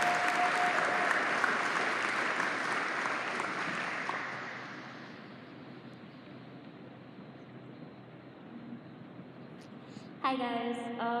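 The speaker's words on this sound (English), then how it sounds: "let's all give Emily a round of applause" Applause at a signing day ceremony, a broad wash of clapping that fades over the first few seconds into a quieter room, with a brief tonal sound near the end.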